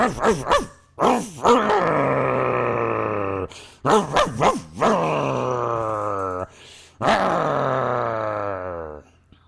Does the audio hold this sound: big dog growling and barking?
yes